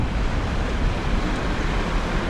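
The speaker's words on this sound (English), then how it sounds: "And what flows at the end of this beautiful sacred burial is a waterfall." A waterfall at the African Burial Ground Monument in New York City produces a dense, steady, broadband rushing roar that stays constant and fills the whole moment, with no voices.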